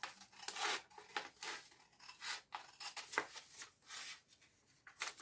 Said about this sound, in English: I'm just going to cut this around.